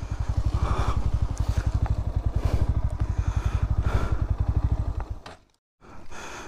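A 2024 Bajaj Pulsar NS 160 motorcycle's engine runs with a loud, fast, evenly pulsing exhaust beat for about five seconds, then cuts to near silence before resuming more quietly, with no talking.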